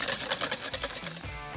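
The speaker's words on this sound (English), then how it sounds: "that's why I switched with the electric hand mixer" An electric hand mixer whisks gluten-free banana cake batter, giving a steady close buzzing whir with a faint rhythmic beat as the beaters turn through the mixture, alone with no talk.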